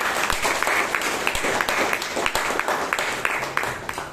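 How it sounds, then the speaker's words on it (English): Steady applause from a Toastmasters club meeting audience in Bangalore, a dense, even roll of many hands clapping for several seconds with sharper individual claps poking through. "For a job well done, let's give her a ring of applause"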